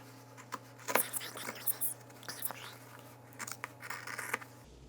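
Scissors snip and scrape through thick layers of denim fabric in a few short, uneven bursts, close by, with soft scratchy movement in between.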